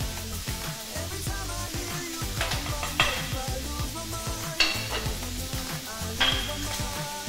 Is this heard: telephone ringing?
no